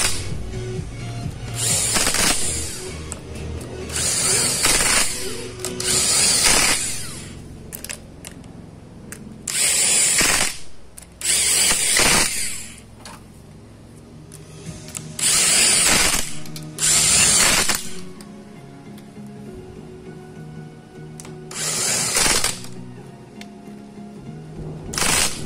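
Power tool bursts tightening bolts on an Italika FT 150 motorcycle engine during reassembly, about eight short whirring runs with ratchet-like clicks and pauses between them, loud and close with no talk.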